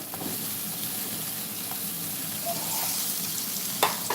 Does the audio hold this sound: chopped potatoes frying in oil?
yes